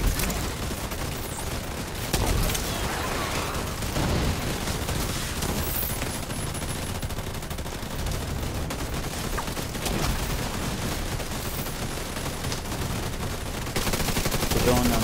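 Players in a video game fire steadily at a boss, with dense, overlapping bursts of automatic gunfire and scattered single shots running almost continuously, and a voice speaks now and then beneath the shooting.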